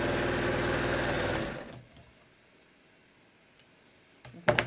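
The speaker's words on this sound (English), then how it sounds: "then I'm gonna just continue serging up" A serger overlock machine stitches a fabric seam with loud, steady mechanical whirring for about a second and a half, then stops abruptly, leaving quiet room tone with a few small clicks and handling sounds.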